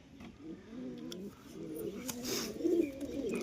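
A young pigeon pair, male and female, coo softly in a series of low, rolling calls, a few overlapping phrases with light background noise.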